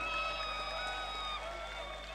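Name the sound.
audience applauding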